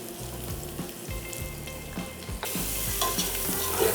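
Sliced onions sizzle and crackle in hot oil for a kadai vegetable gravy, with a spatula scraping and stirring the pan; the frying grows louder as more goes in.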